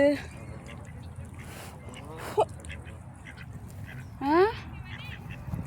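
Ducks and geese at Mount Trashmore Park, a few scattered quacks and honks, one louder call near the end, over steady outdoor background noise and faint voices.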